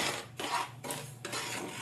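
Fried semolina tipped from a wok onto a metal plate, giving a few clattering, scraping metallic knocks in quick succession, close and fairly loud.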